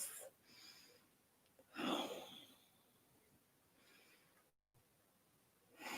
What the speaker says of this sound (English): Taking 3 deep breaths